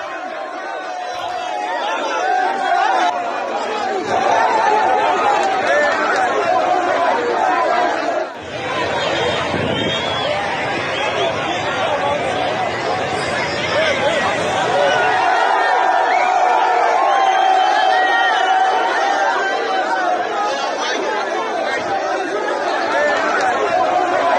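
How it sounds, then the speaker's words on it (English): A large crowd of protesters at a street gathering, dense overlapping chatter and shouting voices filling the scene continuously at a fairly loud level. "Look at that large crowd."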